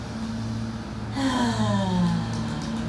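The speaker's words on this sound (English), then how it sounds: "Deep breath in through the nose and let it out through the mouth." A slow, deliberate breath drawn in through the nose and released through the mouth during a seated chair yoga session, a soft airy inhale followed by a longer, louder exhale, close and alone with no talking.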